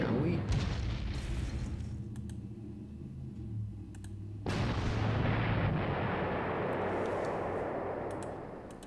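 Artillery fire from a Panzer Corps strategy game set in the 1944-45 Sankt Vith fighting: a sharp boom opens, then a second burst near the middle rolls into a loud, sustained rumble over a low drone.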